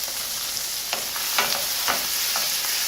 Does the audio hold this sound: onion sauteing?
yes